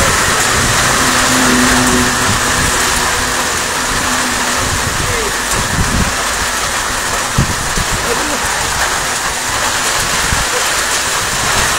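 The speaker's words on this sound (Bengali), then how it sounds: "প্রচুর বৃষ্টি, মনে হয় আজকে বৃষ্টি থামার সম্ভাবনা কম।" Heavy downpour roars steadily at a roadside where cars pass and people shelter from the storm, a dense continuous hiss throughout with faint voices and low traffic rumble beneath.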